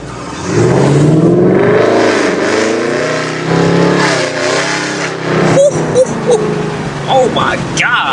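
A 2024 Ford Mustang GT V8 fitted with Kooks headers, set to track mode, revs hard and very loudly in rising, falling sweeps nearby, then settles into burbles as a voice speaks over it.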